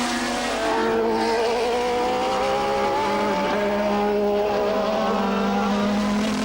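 1988 Formula 1 cars racing on track, a Ferrari among them, engines screaming loud and close with a steady high-pitched whine, slight pitch shifts as cars pass.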